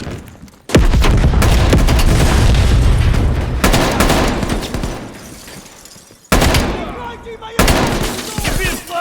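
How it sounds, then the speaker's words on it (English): A grenade blast in the Call of Duty Black Ops Cold War video game goes off loud and close, followed by rolling gunfire and further booms, with a shouted voice amid the battle noise. "Incoming grenade!"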